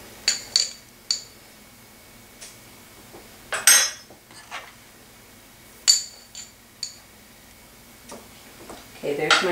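Yeast measured out with a metal spoon and tipped into a bowl for pizza dough made with 00 flour: several light clinks and taps spread across the stretch, close and crisp.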